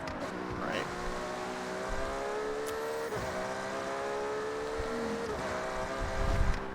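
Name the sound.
car engine revving in Forza Horizon video game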